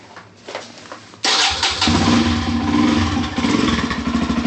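Kawasaki KLX140RF dirt bike, a little cold after a hard trail ride, cranks and fires up with a sudden loud roar, then idles and revs unevenly close by, alone with no talking.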